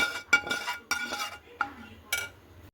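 A spoon stirring caramel into vermicelli payesh in a metal pot, with several clinking scrapes against the pot in an uneven rhythm, close and moderately loud.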